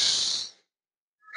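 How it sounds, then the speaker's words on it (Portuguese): A loud, deliberate breath exhaled slowly through the nose during a yoga mobility session, close and hissing, then fading into silence before the next inhale begins. "Eu tô deixando a respiração mais alta para você ouvir minha respiração."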